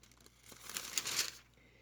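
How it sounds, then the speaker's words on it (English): Book pages being turned during a Bible reading from Exodus: a single soft papery rustle and crinkle that swells briefly and fades, alone in a quiet room. "Whoops, sorry, got 2 pages turned there."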